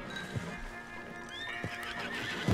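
A horse in the Western video game Red Dead Redemption 2 gives a close, loud neigh, and a few sharp hoof clops land on it across a couple of seconds.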